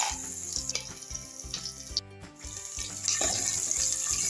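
Peanuts sizzling and frying in hot oil with mustard seeds, cumin and crushed ginger-garlic paste for Khandeshi khichadi, a steady close crackle with brief stirring knocks and a louder burst near the end.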